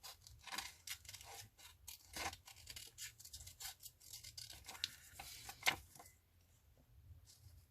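Scissors snip through paper, cutting out pieces for a collage journal, in a series of quiet, irregular close-up cuts with faint rustling of paper between them and no talking.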